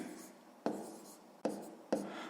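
A pen scratches numbers onto paper while a sixth-grade maths exercise is solved: a few quiet, close strokes that start abruptly and trail off, spaced under a second apart, with no voices.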